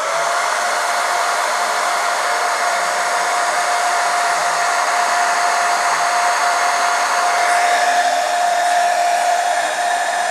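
A hot air blower runs steadily and close, heating a Spektrum DX5e radio transmitter, a continuous loud whooshing roar with a constant whine and no breaks.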